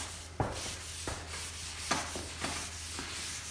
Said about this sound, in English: And we just wet scrub with the wool, and all the varnish, all the lacquer that's deep in the grain is all coming to the surface.